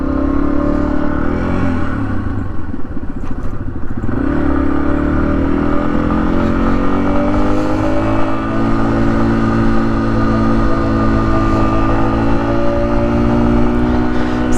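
Small adventure motorcycle riding on a backcountry route, its engine droning loud and steady close by with a smooth, sustained tone and slight pitch shifts, no voices.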